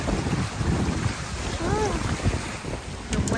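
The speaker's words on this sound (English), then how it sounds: "The wind is picking up" Wind gusts steadily over open water beside a boat at Sherman Island during a fishing outing, a loud, rough buffeting that roars continuously across the whole stretch.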